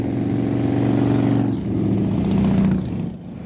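Several motorcycles of a women's motorcycle club in Wichita, Kansas roll past as a steady, loud engine drone that swells and eases, then fades toward the end.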